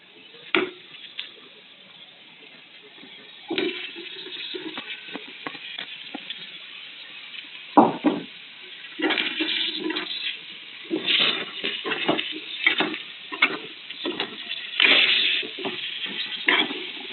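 Kekiri (snake cucumber) sizzles as it fries in a pan, a continuous hiss broken by repeated scraping and stirring strokes that grow busier toward the end, close and fairly loud, with no talking.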